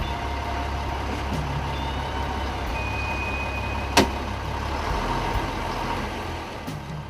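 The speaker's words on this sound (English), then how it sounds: "It takes some skill for Richard to put the old tanker through its paces, double declutching and steering for all he's worth." An old tanker lorry driven along, its engine a steady low rumble throughout as the driver double declutches, with a brief sharp knock midway and a faint high whine.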